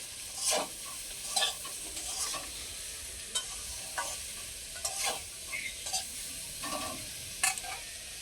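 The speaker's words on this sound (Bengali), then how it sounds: "স্বাদ মতো লবণ দিয়ে দিচ্ছি সবজির সঙ্গে লবণটাকে মিশিয়ে নেব" Vegetables for a spinach and mixed-vegetable ghonto being stirred with salt in a pan, giving repeated scraping strokes of a spoon over a soft, steady sizzle, close and fairly quiet, with no talk.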